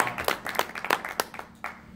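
Small comedy club crowd clapping at a debut stand-up show, a thin, scattered round of claps close by that thins out after a second or so.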